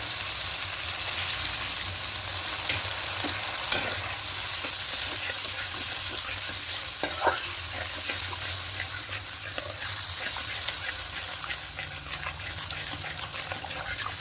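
Mustard gravy for pabda fish simmering in a pan as water is mixed in: a continuous bubbling sizzle with watery splashing and occasional stirring clinks, close and steady over several seconds, no talk.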